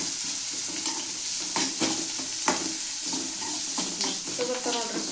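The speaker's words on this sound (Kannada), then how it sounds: "ಎಣ್ಣೆಗ ಫ್ರೈ ಮಾಡ್ಕೊಳ್ಳೋಣ." Finely chopped onions fry in oil for North Karnataka paddu, a steady close sizzle broken by scraping and clinking stirs from a spoon against the pan.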